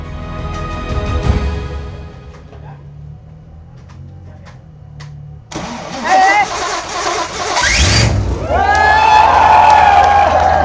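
A car with a freshly swapped engine cranks and catches midway, then revs and settles into a loud running note, with people talking and cheering around it.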